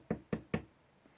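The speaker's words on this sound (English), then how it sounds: "she went round to the front door again and knocked." Three firm knocks on a front door, evenly spaced and fairly close, each a short hollow thud, with no voices.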